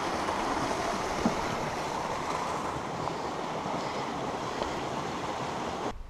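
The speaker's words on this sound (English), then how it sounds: "There's the water here to my right, which I'm just listening to" Stream water flowing in a Lake District valley on the Scafell Pike Corridor Route, a dense continuous rushing close by, with some wind buffeting the microphone and the sound ending abruptly.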